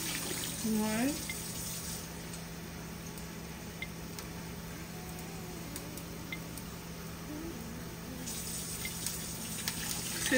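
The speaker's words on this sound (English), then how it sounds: "I'm gonna add some water to this." Water runs steadily from a tap into a cooking pot for beef and carrot stew, a soft continuous splashing pour close by, with a voice faintly heard at the start.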